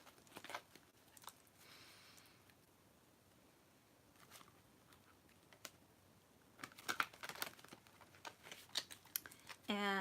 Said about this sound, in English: I'm going to give my cards a good shuffling here.